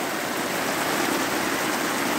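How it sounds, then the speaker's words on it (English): Water dripping and running during a rain storm, heard as a dense, steady hiss of falling rain and trickling water, close and continuous with no voices. "Well, I got water dripping there."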